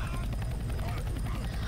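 A helicopter in the video game Left 4 Dead 2 drones with a steady, continuous rotor rumble that stays loud and even throughout.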